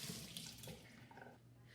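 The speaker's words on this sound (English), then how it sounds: "I also need to wash my hands with soap." A kitchen tap runs while hands are washed with soap, a quiet steady splash of water with soft rubbing and dripping over a brief, close moment.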